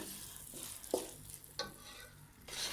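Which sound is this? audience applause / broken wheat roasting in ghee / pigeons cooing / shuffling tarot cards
broken wheat roasting in ghee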